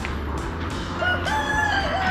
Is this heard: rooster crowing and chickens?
yes